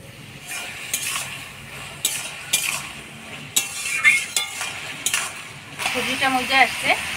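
Bottle gourd vegetable is stirred in a cooking pan, with irregular spatula scrapes, clinks and soft sizzling nearby; a brief voice sounds toward the end.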